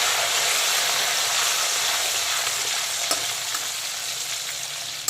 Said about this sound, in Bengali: গোটা জিরে গোটা গরম মশলাটা হালকা ভাজা হয়ে গেলে দিয়ে দেবো পেঁয়াজ কুচি।